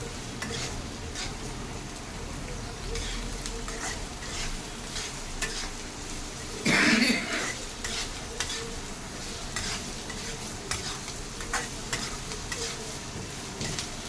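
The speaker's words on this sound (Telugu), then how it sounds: "హై ఫ్లేమ్లో పెట్టి బాగా వేయించాలి" Finely chopped onions and green chillies fry on high flame for veg manchuria, a continuous close sizzle with steady stirring scrapes and one louder clatter partway through.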